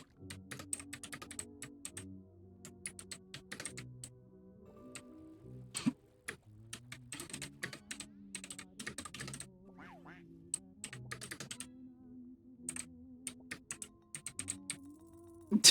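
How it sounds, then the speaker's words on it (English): Bursts of keyboard typing on a computer keyboard, irregular clusters of quick clicks over a low background of music or tones, with pauses between runs of keystrokes. "I'm a bit slow at typing right now"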